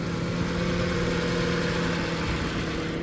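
An Audi Q7 with a 4.2 V8 idles steadily, producing a constant low, droning rumble with a faint, even hum and no changes in revs throughout.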